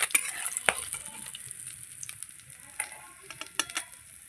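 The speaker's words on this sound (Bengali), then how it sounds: "এই যে কড়া করে ভেজে নিয়েছি।" Amudi fish fries crisp in hot oil with a soft continuous sizzle and scattered sharp crackles and pops, close by.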